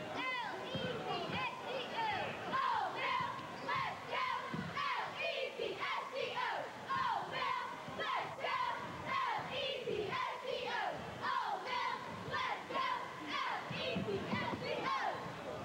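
A Patriots of Old Mill cheerleading squad chants a rhythmic cheer in unison, many young voices shouting steadily and loudly throughout, with crowd-like energy.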